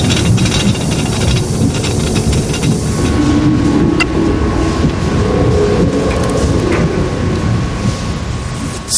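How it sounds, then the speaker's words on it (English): Steam hisses inside the overheating core of the Chernobyl nuclear reactor as pressure builds, a loud, continuous roaring hiss that holds steady for the whole stretch with no voices. "More and more steam is generated from less and less water."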